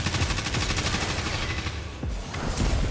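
Rapid automatic fire from an Ikelos SMG in the video game Destiny, hip-fired during a player match, loud close bursts of rapid shots running nearly continuously with a brief gap near the end.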